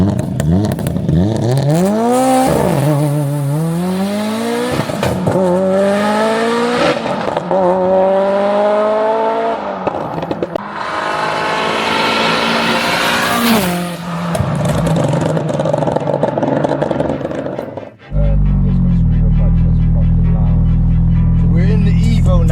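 A 630 bhp Mitsubishi Evo 9 engine revs loudly and repeatedly up close, rising and falling through the gears with rough clattering, then settling into a deep steady idle near the end.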